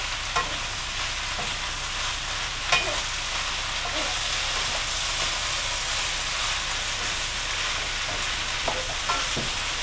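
Orecchiette pasta, blanched broccoli and Italian sausage sizzle steadily in a hot pan, with intermittent stirring and tossing scrapes and soft clunks over the constant frying hiss.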